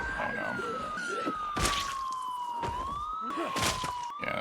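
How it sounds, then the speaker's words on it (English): A siren in Project Zomboid blares loudly and continuously, its tone sliding slowly down and back up, with a few sharp thuds and bursts of noise cutting across it. "I want to turn this damn siren off because it's so damn loud"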